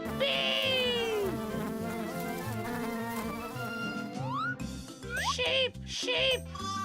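A cartoon bee buzzes over bouncy children's music, a wavering insect whine mixed with playful sound effects and brief voices.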